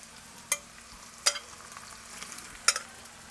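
Garlic frying in a pan with fresh, salted carailli in a Trinidad kitchen: a faint steady sizzle broken by three sharp utensil scrapes or knocks spaced about a second apart.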